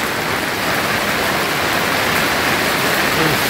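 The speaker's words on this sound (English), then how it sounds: "I am inside the yurt doing some work, and it is hailing like crazy right now." Hail drums hard and continuously on a yurt roof, heard from inside as a loud, dense, steady roar of impacts with no break.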